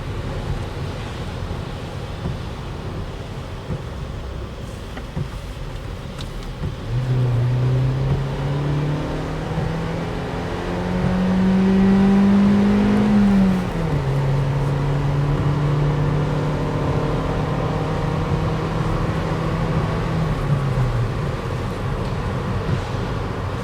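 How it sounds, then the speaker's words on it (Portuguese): A Hyundai HB20's engine drones steadily with road and wind noise on the highway at 100–110 km/h around 3,000 rpm, its pitch climbing and then settling again as it cruises along. "É um carro daqueles que dá prazer ao dirigir na estrada."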